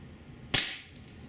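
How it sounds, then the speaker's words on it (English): Beeman P1 .22 caliber air pistol firing a single shot, a sharp close crack with a brief decaying tail, alone against a quiet background. "So the gun gets less loud when you shoot it more."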